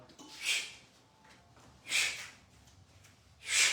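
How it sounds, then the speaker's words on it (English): Three forceful, constricted exhalations through the mouth, evenly spaced and breathy, each a short hissing puff close to the listener. "I exhale in a constricted mouth exhalation"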